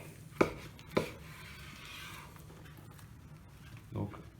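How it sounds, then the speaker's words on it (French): A knife cuts slices from a leg of lamb on a board, with two sharp, close cuts early and a softer one near the end, amid quiet background. "Et donc le tranchage maintenant des tranches de gigot."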